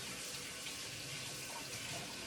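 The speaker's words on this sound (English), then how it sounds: "And then Wash my hands one more time." A kitchen tap runs steadily into a sink as hands are washed under the flow, a continuous close splashing rush with no talk over it.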